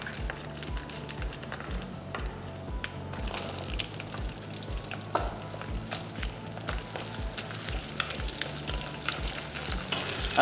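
Ingredients sizzling in hot gingerly oil in a kadai, a steady close crackling fry with regular stirring scrapes of a spoon against the pan throughout.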